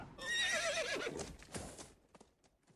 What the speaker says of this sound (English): Then they heard horses across the river.